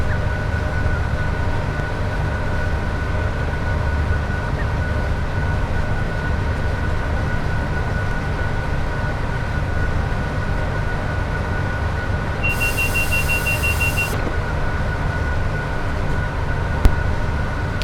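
Class 87 electric locomotive in Train Sim World under power on the West Coast Main Line, a steady loud low traction hum and rumble with a constant tonal whine throughout, a brief higher electronic tone partway through and a small click near the end.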